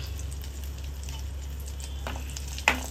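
Whole green cardamom, a star anise and two bay leaves sizzle in two spoons of hot oil for prawns masala, a steady soft frying crackle with one sharper pop near the end.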